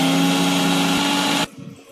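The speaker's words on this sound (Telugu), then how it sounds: "ఇంకొకసారి కలిపేసుకొని ఇంకొకసారి మిక్సీ పట్టేసుకుందాం" A mixer grinder blending tomato and mint chutney runs at a loud, steady whine with a strong motor hum for about one and a half seconds, then switches off abruptly, leaving quiet room noise.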